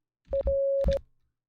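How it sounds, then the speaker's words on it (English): Morse code for the letter R played as a steady electronic tone: short beep, long beep, short beep, clean and clear against silence. "R is did da did."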